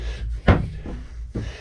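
A door in a small tiny house on wheels with a loft and lift bed swings shut with a close, solid thud, followed by a softer bump as it settles into the latch.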